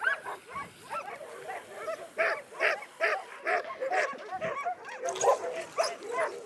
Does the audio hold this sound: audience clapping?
no